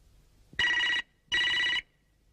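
A telephone bell rings twice in close succession, each loud electronic trill lasting about half a second, separated by a short gap of silence.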